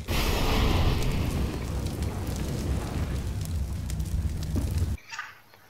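A molotov lands and burns in CS:GO on the Inferno map after a jump throw, a loud roaring, crackling fire rush filling about five seconds before cutting off to a quieter tail.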